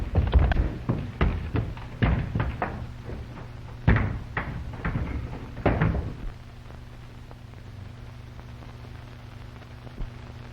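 A door in an old horror movie is rattled and banged several times, sharp wooden knocks and thuds in irregular bursts over a low mains hum and film hiss, followed by quieter hiss.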